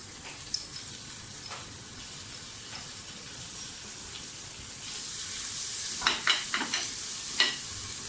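Quiet, steady sizzling of onion frying in a pan with garlic-ginger paste, for mutton soup, with a few scraping stirs and clinks near the end.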